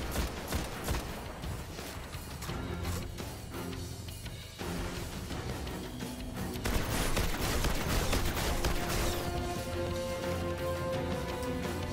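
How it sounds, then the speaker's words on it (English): Gunfire in Destiny's Prison of Elders, dense layered shooting and impacts continuing without pause over game effects and music. "Yeah, I'm shooting at him right now."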